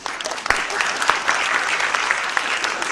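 An opera-class audience applauds a tenor singer, steady dense clapping filling the whole stretch with a few sharper claps standing out, close and fairly loud.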